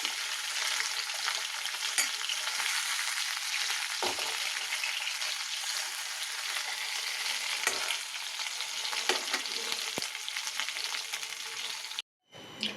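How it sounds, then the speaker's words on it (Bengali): Fish sizzles steadily in hot oil in a wok, a dense crackling hiss with a few clinks and scrapes as pieces are turned, ending in a sudden cutoff. "দেখো মাছটা এক পিঠ ভাজা হয়ে গেছে এক পিঠটা উল্টে দিচ্ছি"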